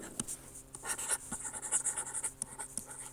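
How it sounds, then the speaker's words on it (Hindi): Chalk or marker writing question number 3 on a classroom board during an accounting lecture, a quick run of close scratchy strokes with short pauses between them, with no talking. "क्वेश्चन नंबर 3 आपके सामने मैं यहाँ लिखता हूँ"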